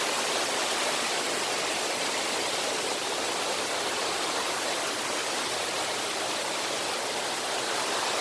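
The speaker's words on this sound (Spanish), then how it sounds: "Las cascadas" Waterfalls at Xilitla pour in a dense, constant roar of rushing water, steady and full without breaks, with no voices.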